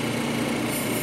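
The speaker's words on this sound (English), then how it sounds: "This way you gotta machine or grind the top surface using also the 600." A cabochon stone's top surface is ground on a 600 grit wheel, giving a steady, even whirring drone with a faint hiss, close and constant, with no talk.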